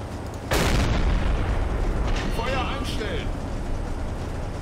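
A naval deck gun firing shells in Silent Hunter 3, one loud booming report followed by a long rolling rumble over steady engine and sea noise, with a voice talking over it.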